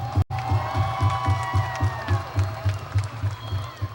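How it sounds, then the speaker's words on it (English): A crowd at a party convention vote announcement claps and cheers in a rhythmic, pulsing burst of applause that continues steadily throughout. "Please give him a round of applause."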